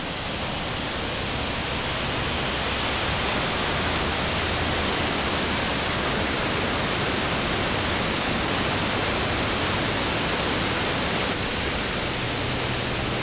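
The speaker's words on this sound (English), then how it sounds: "So this is Big Creek Falls" Big Creek Falls, a large waterfall in a Washington national forest, roars as a steady, loud broadband rush of falling water with no breaks and no voices.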